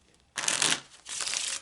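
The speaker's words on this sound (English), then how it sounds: "Alright, so I've shuffled the question into the cards." Two quick bursts of cards being shuffled, crisp riffling close by, separated by a short pause, with no voices.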